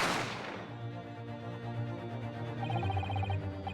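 A single sharp gunshot sound effect from The Great Ace Attorney Chronicles cracks at the start and decays quickly, followed by soft game music tones and chimes.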